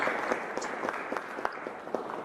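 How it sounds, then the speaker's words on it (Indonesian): Scattered applause from an audience at a university event fills the space with a steady, moderate patter of many hands, a little distant and continuous throughout. "Boleh kasih tepuk tangan untuk kita semua."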